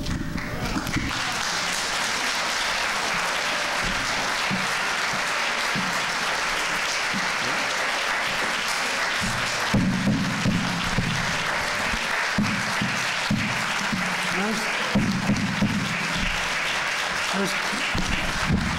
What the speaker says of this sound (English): Let's try to keep the applause down.